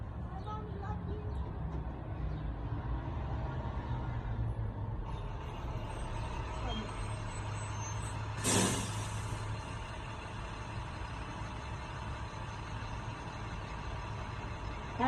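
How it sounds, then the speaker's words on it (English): A school bus pulls up and halts with a sharp hiss of its air brakes, heard over a steady low engine rumble amid outdoor background sound, with people talking nearby. "Here come your bus, son."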